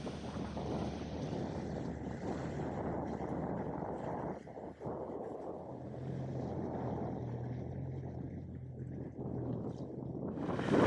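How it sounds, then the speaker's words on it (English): Steady, roaring wind buffets the microphone with a constant low rumble on a tropical island, joined by a faint engine-like drone partway through. "Because it is so windy, I'm looking for a bay before it gets dark"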